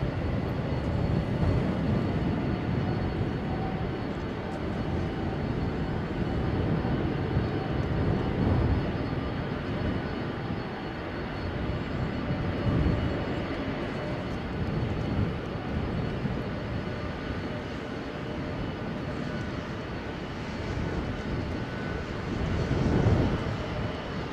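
An aircraft lands in a gusty 34 mph crosswind, a continuous broad engine roar holding steady for over twenty seconds with slight swells, heard from a moderate distance outdoors without talking.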